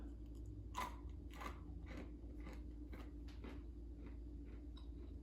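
Someone bites into a homemade zero-calorie graham cracker, followed by a series of close, crisp crunching chews in an otherwise quiet room.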